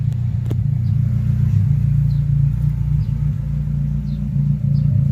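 A 1993 Honda Civic with a turbocharged D15B VTEC engine idles steadily, giving a close, even low rumble that holds without revving throughout.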